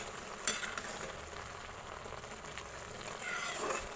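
Apple halwa cooks in a pan with a soft, steady sizzle and faint stirring scrapes, quiet and continuous with no talk.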